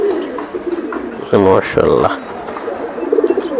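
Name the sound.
pigeon cooing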